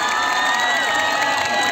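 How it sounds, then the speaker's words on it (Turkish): Festival crowd at the Sorgun summer festival stage cheering and clapping, loud and continuous, with shouts and whoops over a droning music or sound-system hum. "Ona bir alkış gönderelim"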